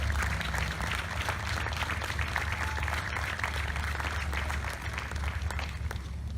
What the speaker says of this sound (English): We'd like to have a big round of applause for Colonel Retired Danny McKnight.